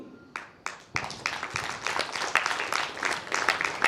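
Applause from an audience at a religious discourse where lamps are lit together, beginning with a few scattered claps and swelling into steady, dense clapping throughout.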